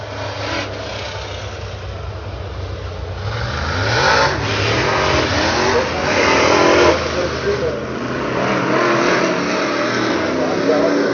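Race cars circle the oval at 411 Motor Speedway, engines droning and swelling as they pass at a distance, heard through a muffled webcam feed with an announcer talking over the track noise.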